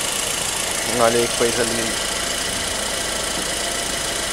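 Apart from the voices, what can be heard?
Chevrolet Astra sedan engine running after ignition repair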